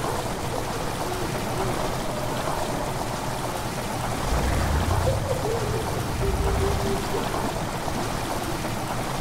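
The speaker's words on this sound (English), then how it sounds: "The water rushing in the chamber makes a strange sound." Water rushing into a chamber in a game, a steady broadband rushing and pouring wash with a brief heavier surge midway, fairly close and continuous throughout.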